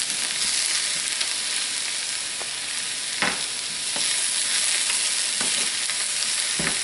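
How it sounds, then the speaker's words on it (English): Onions frying in a hot pan give a steady, close sizzle with brief stirring scrapes and clicks scattered through it, and no one speaks. "I love the smell of onions cooking"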